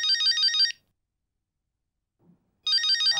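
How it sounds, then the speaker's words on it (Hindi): A bright electronic phone ringtone plays a repeating melody, stops for a couple of seconds of silence, then starts ringing again. "फोन आया"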